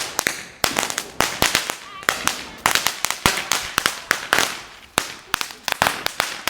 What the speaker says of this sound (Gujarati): ચાલો હવે આપણે ફટાકડા ફોડી લીધા